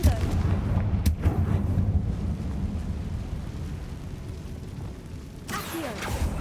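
A Confringo explosive spell is cast in the Hogwarts Legacy video game inside the Feldcroft catacomb: a loud, rumbling blast that fades into a low roar, with a sharp crack near the start and another burst at the end.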